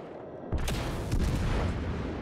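Ship guns firing in a naval video game, a sudden loud boom followed by rolling, overlapping blasts and rumble, close and dense, with no talk.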